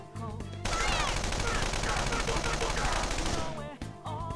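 Gunfire in the video game Persona 5 Royal, a loud, dense burst of rapid shots lasting about three seconds, set against game music.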